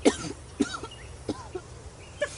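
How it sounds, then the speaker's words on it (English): A series of faint, rough coughs, about four short bursts spaced roughly half a second apart, with a breathy, strained quality. "Princess wheezed out a cough."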